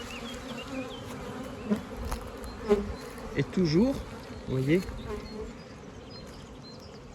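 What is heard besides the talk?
honeybees buzzing at hive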